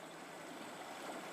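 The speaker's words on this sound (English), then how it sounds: "The water ambient noise in this game is quite loud" Ambient water in the video game RivenWorld, a steady, faint rushing wash like a flowing stream that continues without a break.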